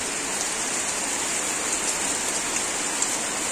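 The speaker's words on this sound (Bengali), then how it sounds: "আর এই যে দেখেন বৃষ্টি শুরু হয়ে গেছে।" Heavy rain pours on a village on a rainy, stormy day, a loud dense wash of hiss that stays even and unbroken from start to finish, with no voices.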